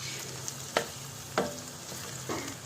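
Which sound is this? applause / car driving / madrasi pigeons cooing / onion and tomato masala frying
onion and tomato masala frying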